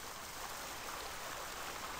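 A faucet in the Paper Mario Sticker Star video game runs with a steady, even hiss of flowing water, soft and continuous with no other sound.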